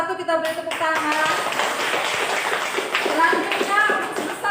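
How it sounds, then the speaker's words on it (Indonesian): Classmates in a school classroom give a round of applause for a presenting group, a scattered burst of hand claps mixed with children's chatter and voices over the top. "kita beri tepuk tangan"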